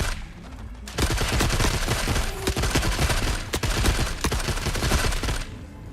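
Sustained rapid gunfire from The Forever Winter, loud and continuous for about five seconds with dense overlapping shots and no pauses.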